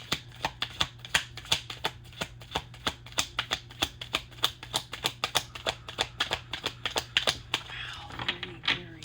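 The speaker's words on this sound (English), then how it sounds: "Okay, I think I've given this a good amount of shuffles." A Princess Bride card deck is shuffled by hand up close, giving a steady run of quick crisp riffling snaps and flicks, about four per second, with faint handling rustle at the end.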